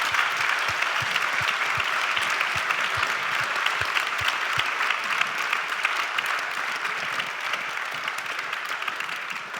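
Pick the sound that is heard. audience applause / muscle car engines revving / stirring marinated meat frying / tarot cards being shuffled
audience applause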